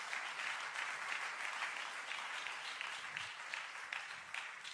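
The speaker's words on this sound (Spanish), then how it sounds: "Denle un gran aplauso a Dios simplemente por este salmo." A church congregation gives a sustained round of applause, a dense, even wash of many hands clapping at a moderate distance with no voices rising above it.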